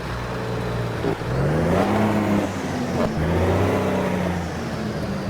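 A Kenworth K100 truck engine in the video game American Truck Simulator drones steadily and revs up and down twice, its exhaust rumbling throughout with no speech.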